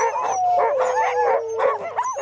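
Several sled dogs howl and yip together in the Arctic, rising and falling wails overlapping with short barks and whimpers, loud and close.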